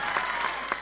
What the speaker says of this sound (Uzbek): qattiqroq qarsaklarni aymaylar